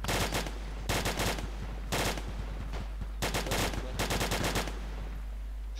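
Automatic gunfire from the video game Arma 2 rattles in several loud sustained bursts separated by short pauses, close and dominant.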